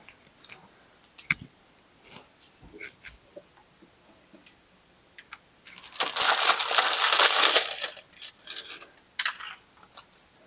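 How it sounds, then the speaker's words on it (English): Paper cupcake liners pressed into a muffin tin in a home kitchen: scattered close crinkles and taps, then a dense two-second burst of rustling paper, followed by a few more sharp crinkles. "line muffin tin with cupcake liners or spray with gluten-free cooking oil"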